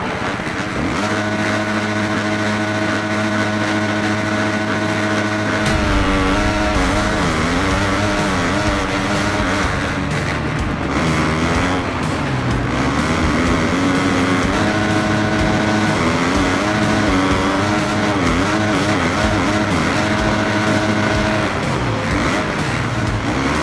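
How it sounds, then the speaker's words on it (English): Dirt-bike engines rev and drone continuously at the start gate in the video game Supercross The Game 5, a dense, loud, overlapping roar with wavering pitch from many motorcycles together. "The riders are lined up and are warming up their engines."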